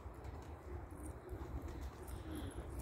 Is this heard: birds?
yes